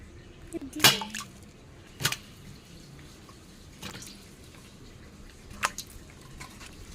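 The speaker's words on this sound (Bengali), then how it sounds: "এখন ভালো করে ধুয়ে নেই আমগুলি" Mangoes are washed by hand in water, with a few distinct splashes and sloshes spaced a second or more apart over a quiet, faint background.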